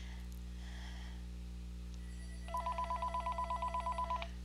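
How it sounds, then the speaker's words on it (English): A house telephone rings in a fast, regular run of electronic chirping pulses lasting a couple of seconds. It sounds clear over a constant low background hum, with no voices. "And there goes my house phone."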